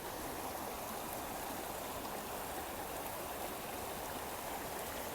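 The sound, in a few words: Keckwick Brook stream flowing water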